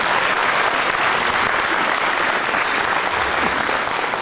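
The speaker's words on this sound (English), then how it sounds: "I really want to give Greg Calhoun a big round of applause." Steady, dense applause from a large audience honoring Greg Calhoun at a Jesse Jackson event at Victoryland, a full even wash of clapping that holds at the same level throughout.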